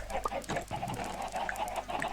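Chickens clucking in Minecraft, soft scattered clucks at a moderate distance, repeating irregularly with no talk over them.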